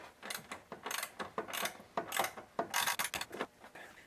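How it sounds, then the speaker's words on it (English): Hand ratchet snugging the last torque screw on a Mk6 Golf R heat shield during a cold air intake install: a quick close series of dry clicking strokes in uneven bursts, alone and fairly quiet. "I'm just going to put that last torque screw back in here so this heat shield's in place,"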